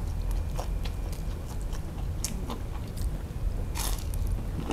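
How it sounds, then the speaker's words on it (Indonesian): Crispy fried chicken skin is bitten and chewed close up, a steady run of loud crunches and wet mastication lasting throughout with no talking. "Kulitnya crispy banget, renyah."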